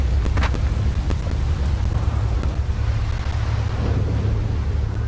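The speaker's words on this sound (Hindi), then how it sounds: "बाप रे ये बरसात सबसे खतरनाक है भाई और वो भी गलत टाइम पे रही है" Steady rain falls in the zombie game Dying Light, a dense continuous hiss with a low rumbling undertone and a few faint clicks, heard alone without voices.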